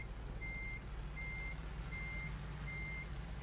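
A truck's reversing alarm in American Truck Simulator, hauling a frac tank, gives four or five evenly spaced beeps over a constant low diesel engine rumble, with no talking.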